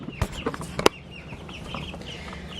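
Baby chicks, including a tiny Silkie, peep and cluck softly indoors, with a louder cluck and a few sharp chirps early on, then continuous faint peeping at low level.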